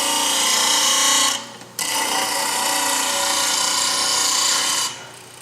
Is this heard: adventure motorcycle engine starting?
no